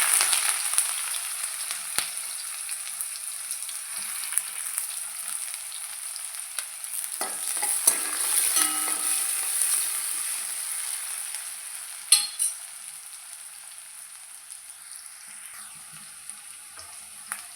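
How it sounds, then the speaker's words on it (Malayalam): Onions frying in hot coconut oil with mustard seeds that have already popped, a steady bright sizzle running throughout with occasional stirring clatter, close and alone without any talk. "കടുകെല്ലാം പൊട്ടി നമുക്കിതിലേക്ക് ഉള്ളി ഇട്ട് കൊടുക്കാം."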